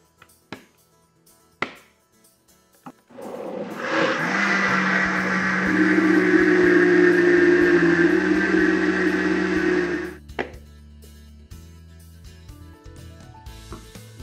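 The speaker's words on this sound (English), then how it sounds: "it's time to puree it in our blender." A kitchen blender purees cooked butternut squash and thyme-simmered soup, a loud steady motor whir with a rising tone that runs for about six seconds after a few clicks of setup, then cuts off abruptly.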